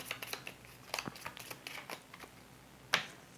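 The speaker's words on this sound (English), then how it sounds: "Actually shuffle 2 more from the advance, from the crime waves." Board game cards for This War of Mine are shuffled on a tabletop, giving soft, close riffles and crisp taps in quick bursts, with a sharper snap near the end and no talking.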